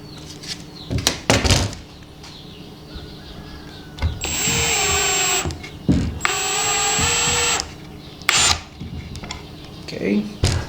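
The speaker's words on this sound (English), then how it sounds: "And let's drive a screw." A power drill drives a screw into wood while building a trellis jig: two sustained whirring bursts of a couple of seconds each, close and loud, with clunks and handling knocks around them and a voice talking.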